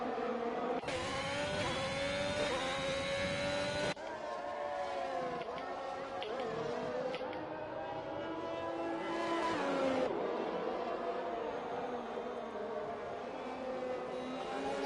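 Race cars in an F1 racing video game, with a single engine whining and shifting pitch up and down through gears, steady and moderately close, accompanied by fainter engine sounds in the background.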